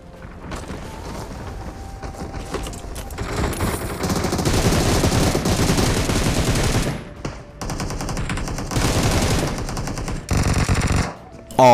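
Sustained automatic gunfire in the mobile battle royale game BGMI, loud and continuous bursts of rapid shots with brief pauses, no speech over it.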